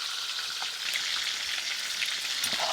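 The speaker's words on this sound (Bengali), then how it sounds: "মাছগুলো ভাজা হয়ে গেছে" Pieces of silver carp fry in hot oil in a home kitchen, giving a steady close-up sizzle and crackle that runs continuously with no talking.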